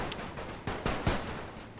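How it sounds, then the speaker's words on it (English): Artillery fire in the World War I video game The Great War, a few scattered dull booms and cracks at mid distance over a faint steady background, with no talk. "they're receiving artillery fire as well"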